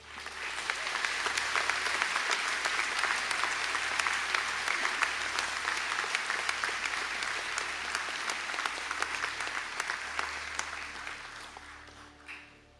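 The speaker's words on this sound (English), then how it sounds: "I'd like to invite the Bachelor of Arts, Honours in Insurance Practice, Life and General Apprenticeship graduates to stand for a round of applause" Sustained, steady applause from a large audience at a graduation conferring ceremony, dense clapping that holds evenly for over ten seconds before tapering off at the end.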